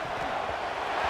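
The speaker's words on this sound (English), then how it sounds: "wow, listen to this crowd noise. This stadium is vibrating." Simulated stadium crowd roar from College Football 26 during a Miami Hurricanes versus Florida Gators game, a dense continuous wash of distant voices that swells slightly toward the end with no commentary over it.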